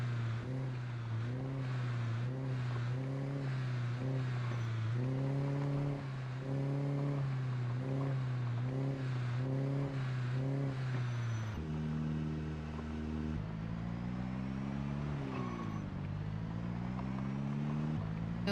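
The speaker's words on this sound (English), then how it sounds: "I get into the really big noisy car" A big, noisy car engine in the video game Project Zomboid drones loudly while driving, its pitch rising and falling with repeated revving and shifting, steady and up close with no talk.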